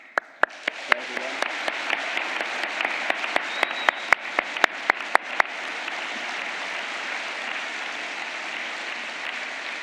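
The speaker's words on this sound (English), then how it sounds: "So one final applause for everyone." Audience applause at the Ravensbourne 2017 School of Media graduation ceremony: sustained crowd clapping for about ten seconds, with sharp, loud individual claps standing out near the front.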